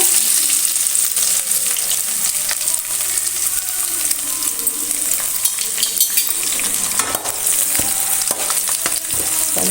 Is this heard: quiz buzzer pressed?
no